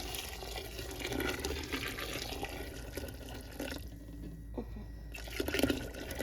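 Water pours steadily from a kettle into a cooking pot during home canning of corn, a continuous splashing flow at close range with a brief quieter gap near the end.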